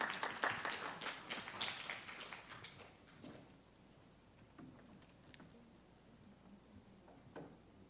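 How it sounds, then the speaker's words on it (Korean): A church congregation applauds to welcome the pastor, a burst of clapping that fades out after a few seconds into quiet room noise. "우리 목사님 나오실 때 보내주신 하나님께 감사의 박수로 한번 환영하겠습니다."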